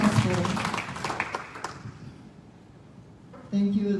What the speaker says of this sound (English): So let's give all these people a big round of applause, please